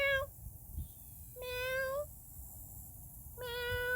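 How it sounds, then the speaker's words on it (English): Kittens meowing, three short high-pitched mews separated by brief pauses, close and clear over a low background rumble. "I'm communicating with the kittens, like George of the Jungle and Tarzan."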